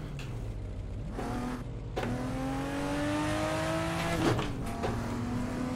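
Toyota Supra race cars accelerate through heavy traffic, engines revving up in rising sweeps with gear changes, one car loud and close with others nearby, and a brief sharp burst near the end.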